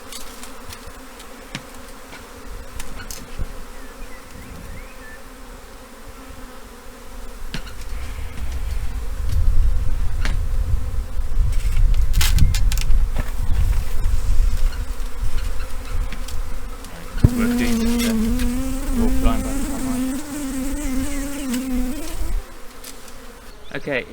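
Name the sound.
honeybee swarm buzzing around a tree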